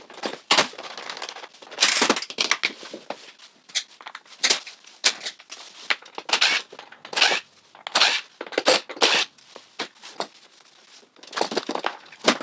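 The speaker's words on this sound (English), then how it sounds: "Now I'm going to remove the drive motor from the Husqvarna." Hand-tool work taking the drive motor out of a Husqvarna Automower 310 robot mower: a rapid series of sharp plastic clicks, cracks and rattles close by, irregular and busy throughout.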